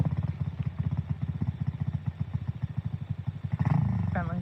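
A small dirt-track motorbike engine idling unevenly, with a steady rapid low pulsing throbbing close by for several seconds before the revs briefly rise near the end.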